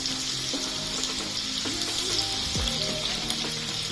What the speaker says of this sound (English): So I'll be frying the onion.